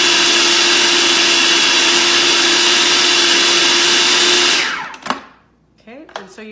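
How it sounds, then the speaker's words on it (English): A blender whirs steadily, loud and close, working green plantain and oil into a dry, loose dough, then cuts off abruptly near the end, leaving faint clatter afterward. "I'm going to blend it just for another moment"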